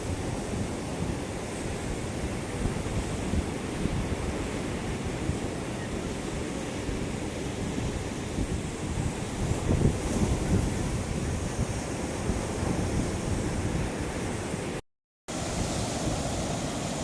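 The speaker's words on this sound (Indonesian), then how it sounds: "kita saksikan ombaknya ya" Ocean waves break continuously at Lampuuk beach in Aceh, a steady, full surf roar mixed with wind buffeting the microphone, with no voices.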